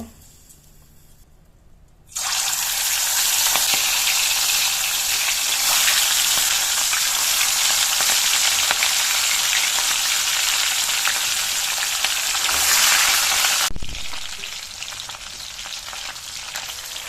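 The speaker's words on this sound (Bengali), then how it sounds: "তেল কিন্তু গরম হয়ে গেছে এদিকে আমাদের এবারে মাছগুলো ভেজে নেব" Pieces of rohu fish dropped into hot oil, setting off a loud, steady sizzle that starts abruptly after a quiet moment and fades down after about twelve seconds.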